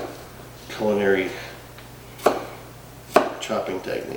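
Food being chopped on a cutting board while making garlic and parmesan red potatoes with sausage: a few sharp, close knife strikes land irregularly, with a voice talking briefly between them.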